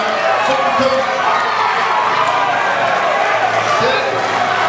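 Crowd at an amateur bodybuilding championship cheering and shouting in a hall, a dense continuous roar with a voice urging them on over it.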